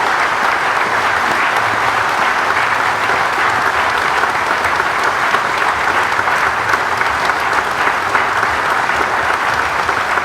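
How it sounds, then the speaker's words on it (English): A crowd at an outdoor Armed Services Day festival gives sustained, loud applause for Gold Star families: dense, even clapping that holds steady for about ten seconds without voices. "give all these Gold Star families joining us today a round of applause"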